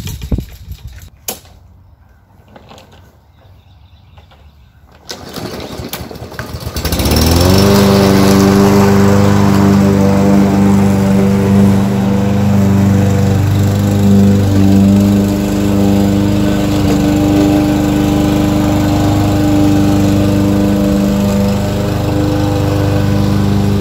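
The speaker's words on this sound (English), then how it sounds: "To see if this lawnmower is ready to be started." A lawnmower engine starts after some clicks and fumbling, then settles into a loud, close, steady running drone that continues without talk.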